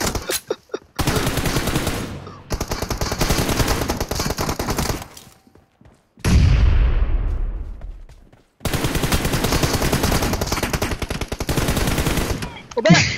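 Loud, close bursts of rapid automatic gunfire in a PUBG Mobile team deathmatch, long sustained volleys broken by short pauses and one booming blast.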